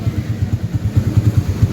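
A Kawasaki W175 motorcycle engine and exhaust putter with a steady, rapid low throb at close range, alone without talk.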